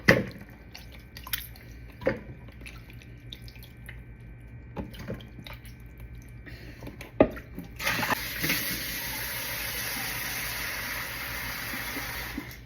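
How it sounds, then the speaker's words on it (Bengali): Water poured into a cooking pot, first as scattered drips and splashes, then as a steady, fairly loud rushing stream through the last few seconds, close by with no talking. "বেশি না জাস্ট একটুখানি জল ঢেলে দেবো"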